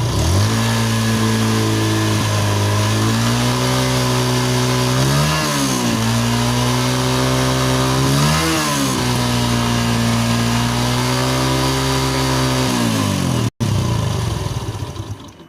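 Motorcycle engine with a burnt, faulty ignition coil, running and revved on the throttle, a loud steady drone that rises and falls in pitch twice before cutting off near the end.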